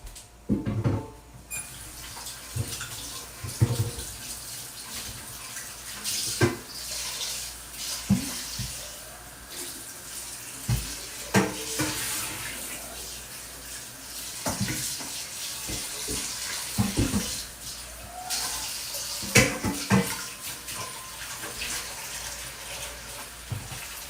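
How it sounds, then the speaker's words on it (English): A pan used to cook spicy shrimp is rinsed under a running kitchen tap, with a steady close rush of water broken by repeated knocks and clanks of the metal as it is handled. "So I'm gonna rinse this out."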